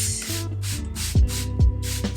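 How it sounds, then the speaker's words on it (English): Several short hissing spritzes from a spray bottle wet the top of natural curly hair, close and distinct, with no talking. "I'm going to be spraying the top of my head again so I can get these pieces wet."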